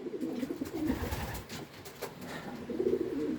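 Pigeons cooing nearby in soft, repeated low throaty calls that continue steadily throughout.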